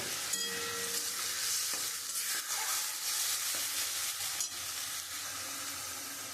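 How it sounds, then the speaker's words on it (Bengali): Onion, garlic and ginger paste sizzles in a hot pan for a Bengali fish curry, a steady close crackling hiss with stirring scrapes throughout and no voices. "আমি এখানে পেঁয়াজ, রসুন, আদা আমি পেস্ট করে রেখেছি, আমি এটা দিয়ে দেবো"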